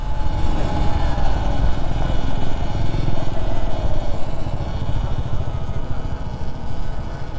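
A Surron Light Bee X electric motorcycle drones steadily at close range while riding, a loud continuous rumble with rapid pulsing and no change in pace.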